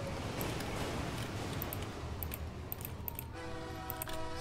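A train in the video game Crash Town rumbles steadily throughout, with a sustained horn-like tone entering near the end over continuous loud engine noise.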